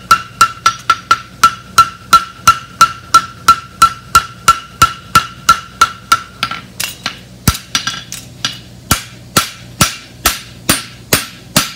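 A blacksmith hammers a bar shoe on an anvil in steady, evenly spaced ringing blows, loud and close, with a bright metallic ring at first that turns duller and sharper as the strikes continue, no talking.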